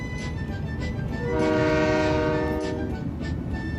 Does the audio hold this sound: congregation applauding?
no